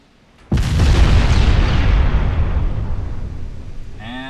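A naval gunfire salvo in the warship game Ultimate Admiral Dreadnoughts, one sudden heavy boom that rolls into a long rumbling decay, loud and close.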